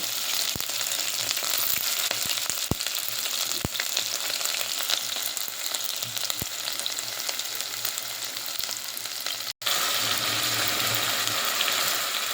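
Chopped onion frying in hot oil gives a loud, dense, continuous sizzle close by, dotted with sharp crackles and pops and one brief break near the end, with no voices.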